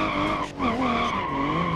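Car tires squeal steadily while drifting in BeamNG, a loud sustained screech with a brief dip midway before the skid resumes.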